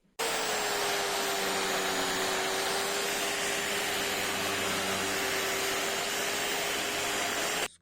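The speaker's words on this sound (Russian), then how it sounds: "с помощью лепесткового круга начинаем наводить старение на наших" Continuous whining roar of an angle grinder with a flap disc sanding wooden picture-frame parts to age them, steady and loud from start to finish before cutting off, with no speech.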